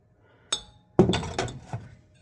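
Glass canning jars, including Kerr Economy, Presto glass top and Ball Ideal, clink and knock together as they are handled, with one sharp tap followed by a cluster of louder ringing glass contacts, close and with no speech.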